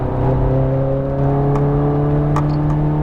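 A Ferrari F430 Scuderia's engine drones on a race track at Las Vegas Motor Speedway, a loud steady tone rising slowly as it accelerates, with faint wind and brief clicks over the top.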